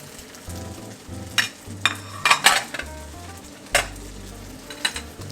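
Chives stir-fried with rice noodles in a wok for Penang char koay teow: steady sizzling under a low hum, broken by repeated sharp scrapes and clanks of a metal spatula against the pan.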